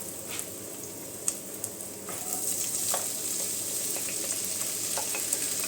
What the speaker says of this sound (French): j'ai mis l'ail à revenir. Maintenant, je rajoute les oignons.